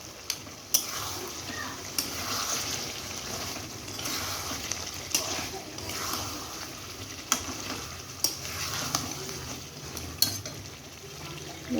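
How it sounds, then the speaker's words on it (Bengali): Mutton and potato stir-fried together in a pan of oil for a mixed vegetable mutton curry, with a steady sizzle, scraping stirs and sharp ticks of the spatula against the pan throughout. "আলুটা দিয়ে মটনটা কষাবো"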